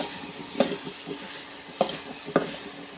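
Okra bhindi fry is stirred in a kadhai that wobbles on an electric stove, with three distinct spatula scrapes over a soft continuous sizzle. No voices.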